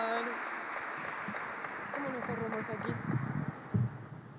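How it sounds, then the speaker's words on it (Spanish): Audience clapping at a music gala, a steady wash of applause with voices and musical tones mixed in, growing a little louder toward the end. "fuerte el aplauso."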